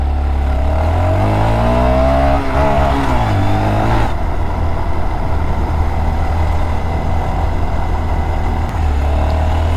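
A mini bike's small engine revving and changing pitch as it rides off, then settling into a steady close drone for the rest of the ride.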